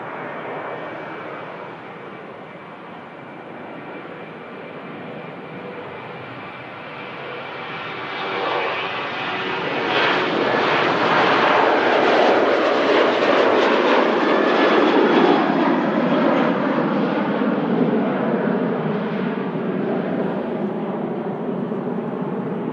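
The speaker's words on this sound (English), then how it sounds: "And the first departure of that lot is going to be this Ryanair" A Ryanair jet departs Manchester Airport in thick fog, its broadband engine roar swelling steadily from moderate to loud around the midpoint and holding strong to the end, with no voices.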